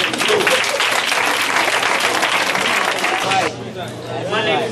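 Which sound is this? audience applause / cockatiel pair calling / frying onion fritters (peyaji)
audience applause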